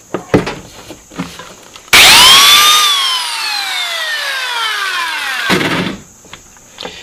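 A Black & Decker angle grinder spins up with a loud whine, runs for about three and a half seconds with the pitch slowly dropping, then cuts off, with handling clatter before and after.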